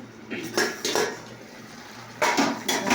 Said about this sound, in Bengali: করলা দিয়ে এবারে নাড়ছি